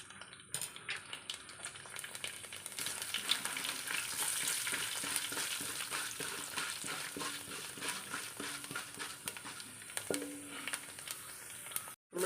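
Parboiled rice with mustard seeds frying in hot homemade coconut oil, a soft steady crackling sizzle with scattered pops and light stirring, quiet and close with no talk.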